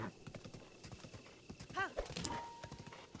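A horse in Zelda: Breath of the Wild on Master Mode clip-clops with quick hoofbeats, then gives a clear rising and falling whinny, with more hoof sounds and game effects around it.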